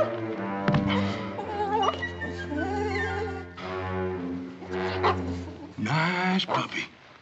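A puppy whimpers and yips in thin, rising cries, a few short bursts mixed with other nearby sounds, close and moderately loud.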